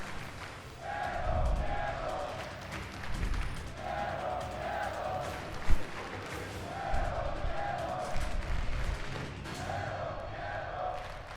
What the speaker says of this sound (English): This crowd is getting behind Pentagon.